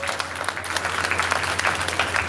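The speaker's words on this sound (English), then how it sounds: "give her a round of applause for that" Audience clapping at a basic school graduation ceremony, a moderate, steady patter of many hands in a hall with a low hum underneath.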